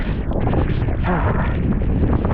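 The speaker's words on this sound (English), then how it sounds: "Just as the wind picks up, of course." Strong wind blowing on Verdugo Peak mountain trail near Los Angeles, a loud steady roar buffeting the microphone for the whole stretch, close and constant with no pauses.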